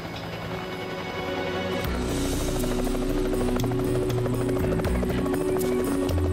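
Rescue helicopter coming in to land on a lawn with its tail rotor running, a loud steady rotor thump and whine that swells and holds close, with a brief lighter roar at the start and no voices.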